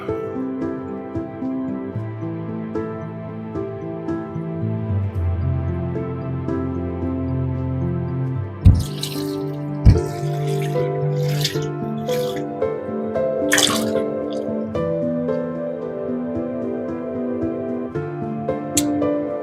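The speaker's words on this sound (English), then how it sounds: "Now I'll go ahead and add some broth." Boxed broth gurgles and glugs as it is poured into a pot of Zuppa Toscana soup, forming a steady liquid stream with a few sharp splashes and clinks partway through.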